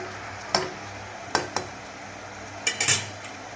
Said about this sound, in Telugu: ఇందులో కట్ చేసి పెట్టుకున్న అట్టిగా ముక్కలు వేసుకుందాం